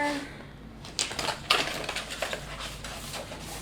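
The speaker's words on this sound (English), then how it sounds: "we'll just cut this out to that line there." Scissors or a blade cutting along a line through a vinyl decal sheet for a trailer trash bin, heard as close, crisp snipping and scraping clicks in an uneven rhythm that starts about one second in, with no talk.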